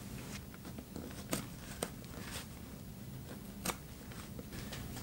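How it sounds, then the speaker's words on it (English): A seam ripper unpicks stitches on a homemade travel bag, producing a few sharp, close snips and small tearing clicks over a low, steady rustle of fabric. "let me get to seam ripping"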